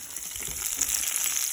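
Beef tips sizzle and crackle in a pan on a Winnerwell tent stove, a dense, steady frying hiss heard up close without talk.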